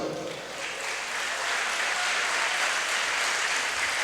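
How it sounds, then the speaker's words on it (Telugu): An audience at an educational session on career goals and achievement breaks into applause. Dense, steady clapping swells within the first half second and holds at full strength to the end. "కొడదాం చప్పట్లు"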